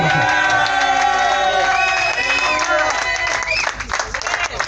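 A church congregation stands to acclaim and cheer, a loud crowd of overlapping shouts, whoops and applause in a large hall, carrying on without a break and easing slightly toward the end.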